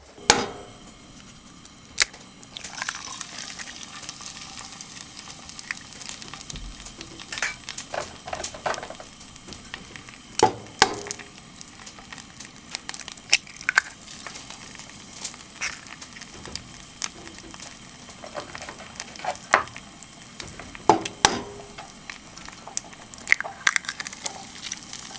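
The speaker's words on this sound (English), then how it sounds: "This morning I'm going to mix my beans into this bacon." Beans stirred into bacon frying in a pan inside a hot tent on a winter overnighter, with soft crackling and scattered sharp scrapes and taps of a utensil, fairly quiet and close.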